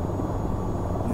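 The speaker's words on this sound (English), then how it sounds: "I think my chopper's damaged." AH-94 attack helicopter in the VTOL VR flight game with damaged, wobbly rotors, a steady loud rotor and engine drone filling the whole moment without a break.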